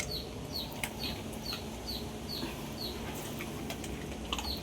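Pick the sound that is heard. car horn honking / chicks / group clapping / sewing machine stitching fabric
chicks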